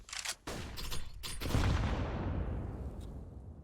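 Grenades detonate in Counter-Strike during a competitive esports match, a couple of heavy booms in quick succession, then a long rumbling decay that fades out slowly.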